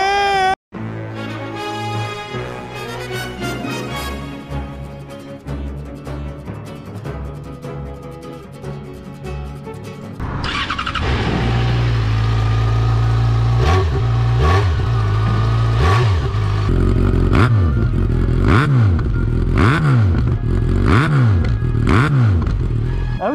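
A Yamaha XJ6 motorcycle with a Dominator exhaust line starts up and settles into a loud, raspy idle, then revs repeatedly in sharp rising and falling blips, close to the listener.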